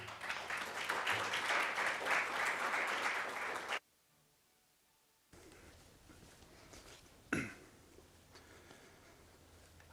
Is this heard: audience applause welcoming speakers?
yes